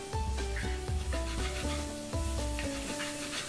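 Stuffed okra with tomato sizzles steadily in a hot pan while a spoon stirs through it in regular scraping strokes, close and continuous with no voices.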